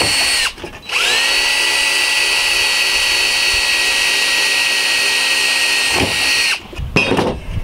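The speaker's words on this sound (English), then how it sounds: "Just drill a couple of holes here, I'll be able to screw it into place." A power drill drilling holes in wood whines steadily at high speed for several seconds, starting and stopping with short gaps at each end, loud and close.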